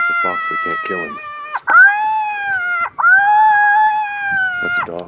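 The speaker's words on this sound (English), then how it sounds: "That's a dog." A dog howls at night during a night coyote hunt, giving long sustained wavering tones in several drawn-out cries with short choppy yelps between them. The howls are close and loud, with no talk over them.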